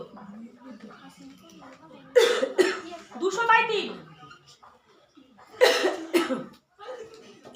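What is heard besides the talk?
coughing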